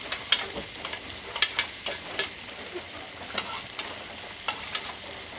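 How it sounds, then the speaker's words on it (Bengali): Chopped onions, chillies and a pinch of panch phoron frying in oil for an arum flower and dried fish dish, a steady close sizzle with sharp crackles and stirring scrapes at irregular intervals, with no voices. "যাতে করে তাড়াতাড়ি পেঁয়াজ এবং রসুন সবগুলো উপকরণ ভাজা হয়ে যায়"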